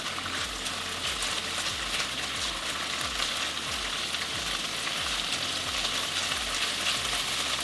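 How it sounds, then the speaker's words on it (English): Ginger frying in a pan with a cinnamon stick for a tofu curry, giving a steady, close, continuous sizzle that stays even throughout with no talking. "Slightly fry it so the ginger smells"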